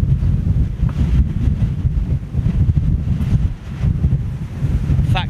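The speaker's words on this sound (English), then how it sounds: "Blustery conditions, man." Strong gusty wind buffets a microphone outdoors at Toulouse airport, a constant loud low rumble with fluttering surges and no clear pauses.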